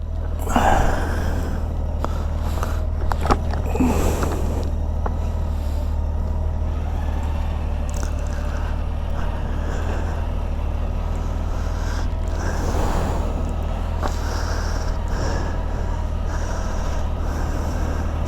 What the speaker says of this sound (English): You just plonk the button in, press the starter button and she reverses back, stop it and switch reverse off